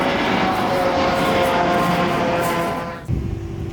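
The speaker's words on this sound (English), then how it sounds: "planes are taking off and landing, of course, because they're doing tests with the airplanes" A test airplane near the Airbus factory at Stade passes overhead, a loud sustained engine roar with tonal whine that fades out before a sudden louder rumble near the end.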